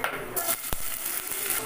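Onions dropped into hot oil with whole spices and stirred, with a steady sizzle, a metal spoon scraping and clinking against the pan, and one sharp knock partway through, with no talk.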